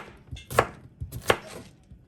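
Potatoes being cut into cubes with a knife on a cutting board, two distinct close chops about three-quarters of a second apart, with no talking.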